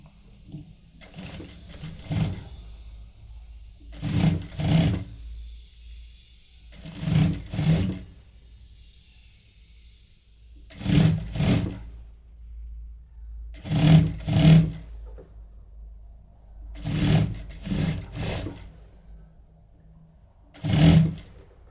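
Sewing machine stitching down a folded fabric hem on a peplum top, in repeated short bursts of fast whirring needle runs separated by brief pauses, close and clear with no talk.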